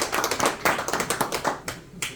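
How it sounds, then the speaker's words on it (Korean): A small meeting audience at a civil-military council session claps, giving a brief burst of uneven hand claps, close and fairly loud, fading near the end. "박수 한번 해주시죠"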